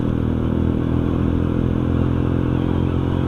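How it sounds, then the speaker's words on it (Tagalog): A motorcycle ridden without a helmet on a dark road near the San Jose exit, heard as a loud, steady engine roar that stays close and even throughout, with no voices. "Ganda ng motor, walang helmet."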